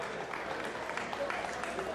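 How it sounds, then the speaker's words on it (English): Steady applause from a crowd at a boxing press conference, a dense patter of clapping at moderate distance, with voices blending in underneath. "Round of applause for someone that's fighting someone he doesn't know."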